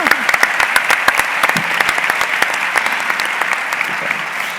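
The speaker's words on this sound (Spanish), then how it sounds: "Y quería un aplauso para ellos también." A room full of people applauds healthcare workers, loud and steady continuous clapping with sharp individual claps standing out, lasting several seconds and fading slightly toward the end.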